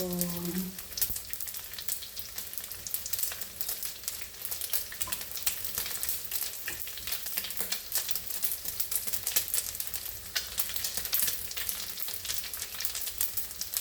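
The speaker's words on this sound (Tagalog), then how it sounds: "Habang piniprito ko guys yung dilis" Dried anchovies (dilis) frying in a pan, giving a steady, bright crackling sizzle with rapid popping that runs evenly from start to finish at moderate loudness, with no talking.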